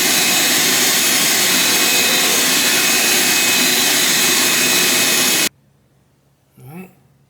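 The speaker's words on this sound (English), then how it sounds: "so let's vacuum this sucker." A loud, steady vacuum cleaner roar runs for several seconds while cleaning Corvette C7 exhaust tips, then cuts off abruptly, followed by a brief voice.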